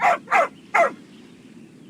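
A dog in the video game Genshin Impact barks three times in quick succession, close and clear, followed by a short quiet stretch.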